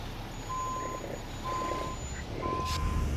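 A 1992 Peterbilt 379 truck with a grain trailer reversing in American Truck Simulator, three evenly spaced electronic beeps over a low idling engine rumble, ending in a brief hiss.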